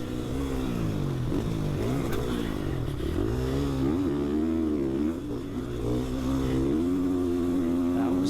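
A KTM 450 four-stroke dirt bike engine drones loudly and steadily around a corner in a race, its pitch dipping and rising as the rider eases off and reopens the throttle.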